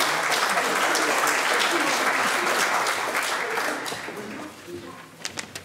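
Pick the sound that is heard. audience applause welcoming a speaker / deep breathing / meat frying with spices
audience applause welcoming a speaker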